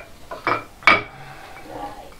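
A few hard clattering knocks of a shaving brush or bowl against a sink, two sharp impacts close by, followed by quieter rattling.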